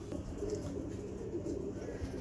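Pigeon of an old bloodline cooing softly amid dense low background noise and rumble, the calls faint and blended into the ambience.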